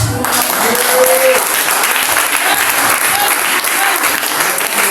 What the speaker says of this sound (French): Tu peux acclamer Jésus